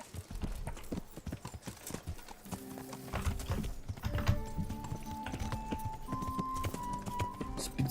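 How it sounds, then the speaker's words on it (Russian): Horse hooves clip-clop steadily in the medieval RPG Kingdom Come: Deliverance, a rhythmic close gait with a faint whinny and game ambience layered over it. "Специальные сертифицированные лошади."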